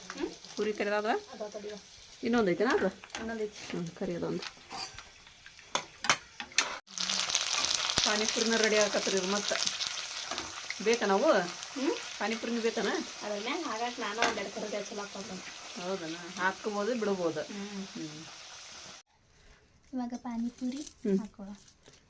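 Puris frying in hot oil at a home chaat stall kitchen, a steady sizzle and bubbling running through the clip beneath frequent conversational talk, with occasional stirring clatter.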